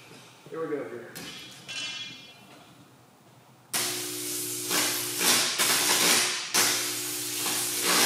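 Hot dogs on a live electric line crackle and sizzle, quiet at first and then suddenly loud, a harsh buzzing hiss with a steady electrical hum running through it and a voice talking underneath.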